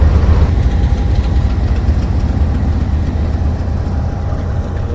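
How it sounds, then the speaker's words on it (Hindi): A railway shunting locomotive of the type known as the Iron Horse, at a railways museum, idles in a loud, steady low rumble heard from close by or from inside. "ये इंजन आयरन हॉर्स के नाम से भी जाना जाता है"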